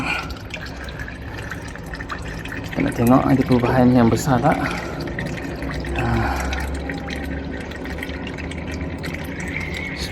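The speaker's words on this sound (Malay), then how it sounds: "Ok, kita buka balik air." Water runs from a tap into a freshly unclogged sink, a steady splashing trickle with a brief louder gush, while someone talks over it.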